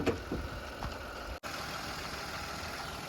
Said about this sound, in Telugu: ఇప్పుడు ఇంజన్ ఆన్లోనే ఉంది, మీరు ఇంజన్ సౌండ్ వినొచ్చు